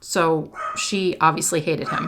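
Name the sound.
dog barking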